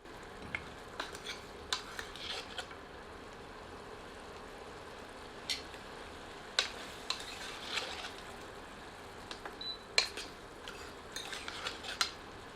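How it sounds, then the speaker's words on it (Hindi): A spoon stirs guinea fowl curry in a cooking pot, giving scattered scraping clinks and knocks against the metal over a quiet background, with irregular gaps between strokes. "एक बार अच्छी तरह स्टर करते हैं।"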